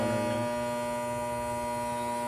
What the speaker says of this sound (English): I do not have a light in my house that makes that noise.